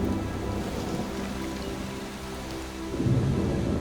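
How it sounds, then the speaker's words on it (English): A monsoon thunderstorm over a dry forest island: heavy rain pours steadily while deep thunder rumbles underneath and swells louder near the end, with no voices. "An early monsoon storm is brewing."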